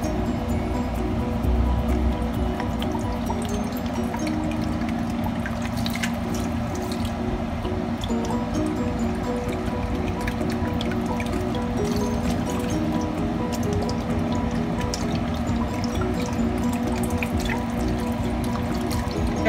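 About one and a half cups of vinegar pours into a pan of milkfish, a steady close splashing trickle of liquid that continues evenly throughout with no talking.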